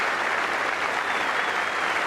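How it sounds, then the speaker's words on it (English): Steady applause from a cricket crowd at an Australia versus England Test match in 1994/95, a dense, even wash of clapping from many hands that holds at constant loudness. "The crowd here really appreciative."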